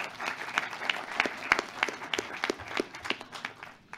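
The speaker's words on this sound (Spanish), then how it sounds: "Un fuerte aplauso, por favor" Applause at a forum on prior consultation with Afro-descendant communities, sparse and fairly quiet, with individual claps landing in an uneven rhythm across a small audience and no talk over them.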